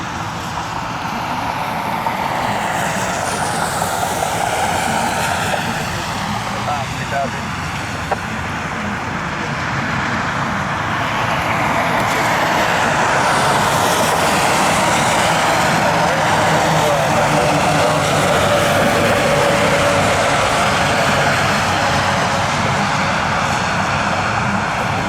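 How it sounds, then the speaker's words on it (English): A Boeing 737-800 airliner taxis toward runway 24 left at Cleveland in rainy, foggy weather, its jet engines giving a loud, continuous roar that swells slightly as it passes nearby. "The airline's 737-800. Taxiing over here to 24 left."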